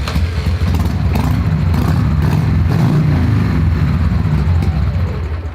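A cheap Harley-Davidson motorcycle engine runs with a loud, steady, lumpy idle, deep and close up, with some mechanical clatter, and no one speaking.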